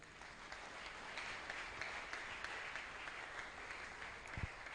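A church congregation applauding, dense steady clapping from many hands at a moderate distance, continuous throughout with no voices standing out.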